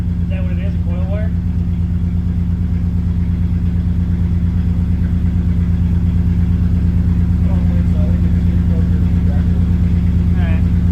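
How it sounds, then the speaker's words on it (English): A car engine idles steadily after a coil wire repair, a loud, even low rumble running throughout, with faint voices talking in the background at times. "now she's idling pretty good"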